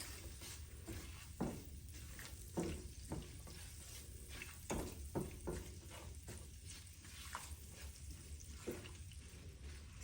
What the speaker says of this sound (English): And then we're going to stir.